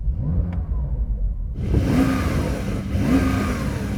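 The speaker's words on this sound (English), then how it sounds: "let's hear these engines. So Porsche first." A Porsche 911 Turbo S engine idles low, then revs up sharply with a rising roar, settles, and revs again, loud and close.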